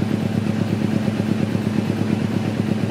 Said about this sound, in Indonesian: Nih, suara knalpot.